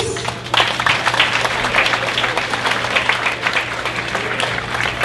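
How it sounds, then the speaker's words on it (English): At the Bethel 2018 graduation ceremony, the audience bursts into applause, a thick wash of many clapping hands that starts abruptly and continues steadily, with a constant low hum of the hall underneath. "A round of applause, please."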